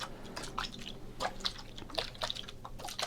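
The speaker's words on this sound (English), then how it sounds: "shake your water bottles. It's relaxing." A water bottle is shaken at a desk, giving a run of irregular sloshing, splashing liquid bursts that stay close and moderately loud, with no talking.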